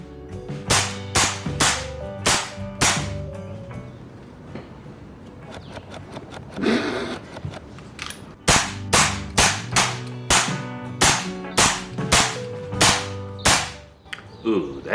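A BRK Ghost air rifle firing ZAN slugs gives a rapid series of sharp, loud cracks in quick succession, a short gap midway, then another fast burst.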